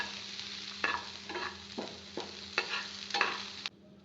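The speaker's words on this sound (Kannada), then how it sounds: "ಬೆಳ್ಳುಳ್ಳಿ ಆ್ಯಡ್ ಮಾಡ್ಕೊಂಡು ಕರಿಬೇವು ಚೆನ್ನಾಗಿ ಫ್ರೈ ಮಾಡಿ" Garlic and curry leaves fry in oil in a pan, giving a steady sizzle under about six rhythmic scraping stirs of a spoon. The sound stops abruptly near the end and no one speaks.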